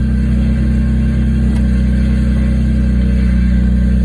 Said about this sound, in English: The car is very noisy this morning.